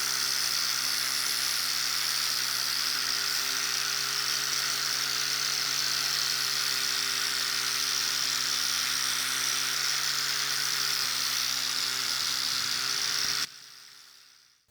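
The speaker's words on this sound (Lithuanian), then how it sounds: "Išvaliau visus, mechaniškai su šepečiu nušveičiau" Steady electric buzz of a powered brush scrubbing the bolts of a Mercury OMC 235 timing chain cover, continuous and close for about thirteen seconds before cutting off abruptly, leaving near silence.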